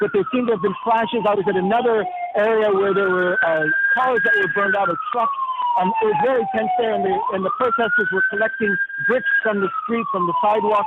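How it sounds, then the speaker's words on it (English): Ambulance siren wailing up and down at a tense street protest where bricks are being gathered, sounding steady in the background beneath continuous close reporter speech. "As you can hear also, there's an ambulance in the background."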